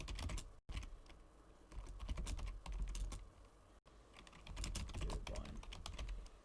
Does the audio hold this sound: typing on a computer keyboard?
yes